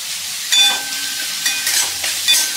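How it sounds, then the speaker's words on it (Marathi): Ginger garlic paste sautéing in a pan gives a steady sizzle, with a few louder bursts of hiss as it is stirred, close and alone. "आलं आणि लसूण 1 मिनिट आपल्याला परतवून घ्यायचं आहे।"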